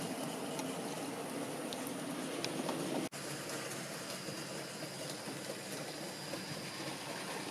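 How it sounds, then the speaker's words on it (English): A model railway train runs along the loop of an East Anglian layout, giving a steady, faint whirring rumble with no voices and one brief dropout partway through. "So the train's going to go now to the other end of the loop."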